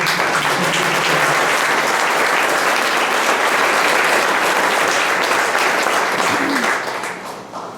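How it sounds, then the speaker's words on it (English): A crowd at a school track and field awards night breaks into loud, sustained applause, a thick roar of many hands that holds steady before tapering off near the end. "So a round of applause to those kids."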